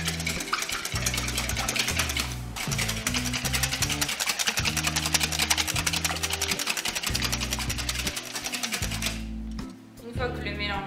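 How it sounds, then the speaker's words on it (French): An electric mixer whisks four eggs in a bowl for a carrot, oat and walnut cake batter, giving a loud, steady mechanical whirr with a rattling pulse that runs about nine seconds before cutting off. "Donc une fois qu'on a mis nos 4 œufs dans le bol, on va venir les fouetter."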